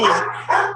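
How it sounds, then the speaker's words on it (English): Dogs barking indoors: two loud, close barks in quick succession with no talk over them. "I'm sorry about my dogs there."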